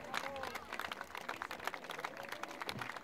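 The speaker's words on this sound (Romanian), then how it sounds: "Haide să aplaudăm, Gentica Eternă." An outdoor crowd at the Apulum 2018 festival, during a Dacian and Roman combat reenactment, applauds steadily and fairly far off, under overlapping voices.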